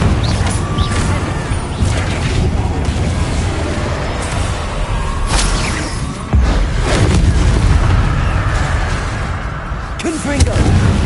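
Repeated Confringo fire-spell blasts in Hogwarts Legacy boom and crash loudly, several heavy impacts spread across the stretch, with a man calling out over the explosions.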